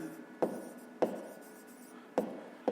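A pen writes out a maths explanation on paper in a quiet room, giving four sharp separate strokes, each with a short scratchy tail, close by.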